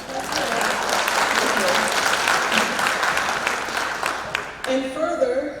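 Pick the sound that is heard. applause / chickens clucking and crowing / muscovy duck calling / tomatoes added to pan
applause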